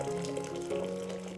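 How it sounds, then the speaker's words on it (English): Boiling water pours into a slow cooker for alkaline dumplings, a continuous filling gush with a rising tonal ring as the vessel fills, close and steady with no talking. "Pour boiling water into slow cooker."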